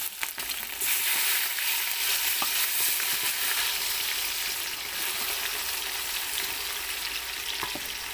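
Onions frying in a pot of caramelized sugar give off a steady, close sizzle that runs the whole way through, with a few faint clinks and stirs and no talking.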